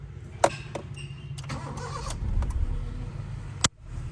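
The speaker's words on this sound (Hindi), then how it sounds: "तो सबसे पहले तो गाड़ी आपने स्टार्ट कर लेनी है।" A used car's engine starts up: sharp clicks and clunks, then a cranking, rising rumble that settles into a steady idle, ending with a loud door-like thump.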